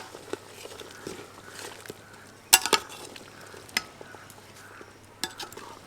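Biryani ingredients are stirred together with a spoonful of ghee, with soft scraping and stirring sounds and a few sharp metallic spoon knocks against the pot close by.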